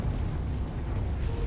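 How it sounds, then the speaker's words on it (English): In the mech combat game Mechwarrior 5: Mercenaries, artillery fires on a hostile base with a dense, sustained low rumble of blasts that rolls on without a break. "We have some artillery firing towards the hostile base"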